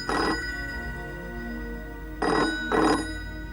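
An old-style telephone bell rings in short bursts, one ring followed by a pause and then two more close together, with no voices.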